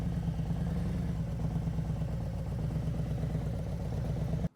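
Motorcycle creeping slowly forward in the friction zone with the rear brake lightly covered: a steady, close low engine rumble near idle that holds even for about four and a half seconds, then stops abruptly, with no talk.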